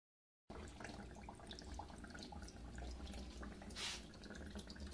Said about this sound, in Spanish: Aquí vemos que ya está funcionando, ya mandó el agua hacia acá abajo.